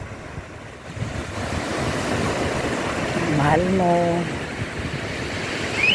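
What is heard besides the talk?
ocean waves crashing on the beach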